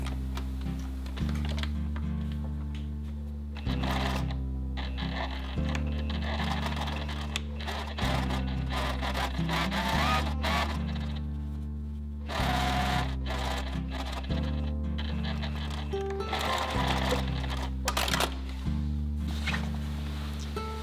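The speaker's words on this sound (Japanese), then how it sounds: "ポケット口に5ミリでステッチをかけます。" A sewing machine topstitches 5 mm in from a seam pocket opening. A low motor hum runs in repeated bursts with short pauses between, and light ticking and clicking sounds sit over it.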